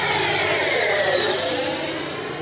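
An FMS Avanti S 90mm electric ducted-fan RC jet roars past at full speed with a loud, broad high-pitched whoosh that fades slightly as it moves away.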